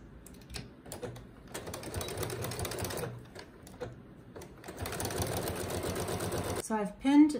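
Sewing machine stitching a line along the bottom of a cotton face mask, rapid mechanical whirring in two stretches separated by a short pause, close, with a voice speaking over it.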